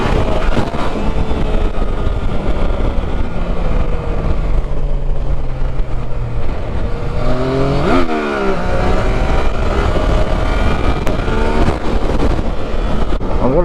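Motorcycle riding along country roads in the Peak District, its engine droning steadily with wind rush over the microphone, rising and falling through gear changes and throttle blips around the middle, continuous and close throughout with no talk.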